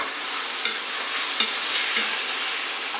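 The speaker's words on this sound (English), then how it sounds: "so you're mixing all the meat in with the chili con carne sauce" Minced meat being stirred into a sizzling chili con carne sauce in a hot pan, a steady frying hiss with a few soft scrapes from the spoon.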